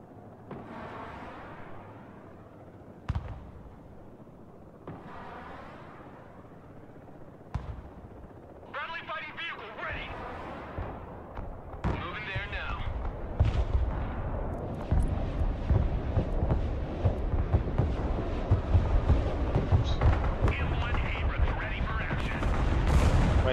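Artillery in the video game Broken Arrow sounds as a series of sharp thuds and booming impacts that grow denser and louder over time into a continuous roar of battle, with someone talking throughout.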